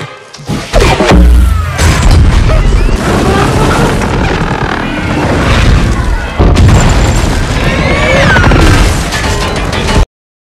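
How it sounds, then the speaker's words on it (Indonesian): Heavy booming blasts of cannon fire from a ship ring out close and loud, mixed with a dense, chaotic action soundtrack. "menembakkan meriam dari kapal Magellan"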